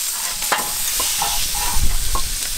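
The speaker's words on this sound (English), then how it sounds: "That's my favorite sound when you're cooking and you put something in the pan and then it sizzles" Burger patties sizzle in a frying pan during a rainy-day barbecue, a steady broadband hiss close by with a few faint clinks and scrapes, no voices.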